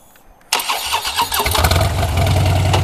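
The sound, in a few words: motorcycle engine starting before loading onto pickup truck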